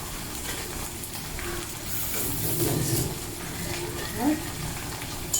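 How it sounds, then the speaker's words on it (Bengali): Chopped onion added to hot oil for a chicken curry fries with a steady soft sizzle, moderately close, with occasional stirring clinks and brief movements over the background hiss. "পেঁয়াজটাকে ভালো করে ভেজে নিতে হবে, বেশি কড়া করে না।"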